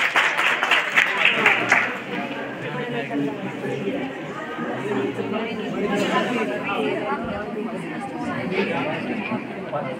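Audience at a state-level drama competition on HIV/AIDS applauding a performer, brief clapping at the start that blends into loud crowd chatter and voices throughout.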